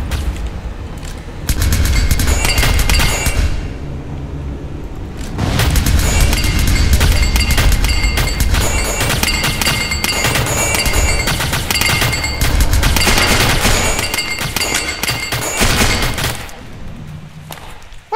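Rapid bursts of MP7 machine gun fire in a video game, loud and close, with sustained strings of shots broken by short pauses and booming impacts over about eighteen seconds, no talking.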